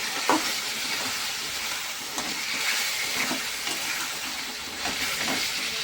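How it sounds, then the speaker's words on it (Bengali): Food being stirred in a cooking pot over a steady sizzling, hissing background, with soft scraping strokes and a few light knocks from the utensil recurring every second or so. "এটা একটুখানি দিয়ে নাড়াচাড়া করে নিচ্ছি"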